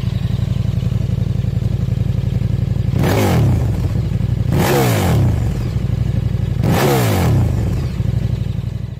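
Loud revving from a KTM Super Duke R 1290 streetfighter motorcycle engine, a 180-horsepower V-twin: a steady idle rumble broken by three sharp throttle blips with rising and falling pitch sweeps, heard alone.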